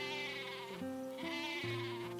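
A livestock goat in the farming video game Harvestella bleats in a series of wavering, nasal cries, clear and close, with no speech over them.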